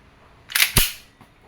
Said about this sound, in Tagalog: Okay, Sir Mervin, chronograph testing. Your Glock 34 Combat Master by ENC